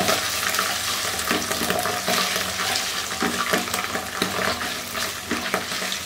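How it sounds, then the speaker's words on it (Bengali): Tomato paste frying in a pan over a medium flame for Gigi Hadid-style pasta, a dense, steady sizzle punctuated by repeated scraping stirs, fairly loud and close, without speech. "এখন আমি চুলার জালটা কমায় মিডিয়ামে ভাজতেছি।"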